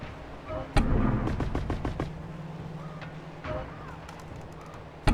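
Pistol shots in the video game The Foretold: Westmark Legacy: a loud first crack followed by a quick volley of about seven sharp shots, then scattered quieter impacts and game sounds.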